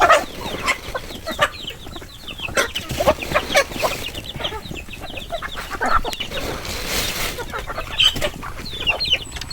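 Hens cluck repeatedly in a backyard flock, with busy overlapping clucks and occasional louder calls, fairly close and continuous over steady outdoor background noise.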